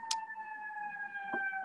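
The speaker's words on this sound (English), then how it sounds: "Oh, somebody has a siren." An electronic siren sounds inside a conference room, holding steady, slightly falling tones for the whole stretch, with a short click near the start and a thump near the end.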